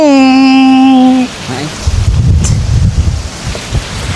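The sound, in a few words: strong wind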